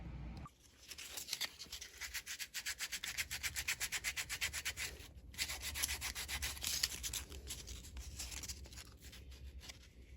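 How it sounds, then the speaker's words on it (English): A Ferragamo slip-on leather shoe is sanded by hand with 120 grit sandpaper, rapid rhythmic scratchy strokes repeating close up, with a brief pause partway through. "120 sandpaper"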